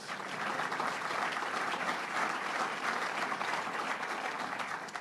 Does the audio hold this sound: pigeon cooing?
no